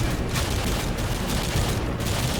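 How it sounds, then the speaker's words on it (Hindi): Sustained gunfire in Call of Duty Modern Warfare 2 during the No Russian mission, a loud dense rattle of overlapping shots and booms filling the whole stretch without pause. "अरे ऊपर से फायरिंग आ रही है।"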